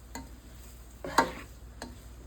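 A chicken and seafood mixture with green onions and parsley is stirred, giving a few soft scrapes and clicks against the bowl, one slightly louder at the middle, quiet and close with no voices.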